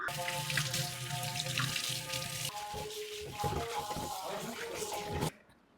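Water runs steadily from a kitchen tap while something is washed under it, a continuous splashing stream with tonal ringing from the sink, ending abruptly when the tap is shut off.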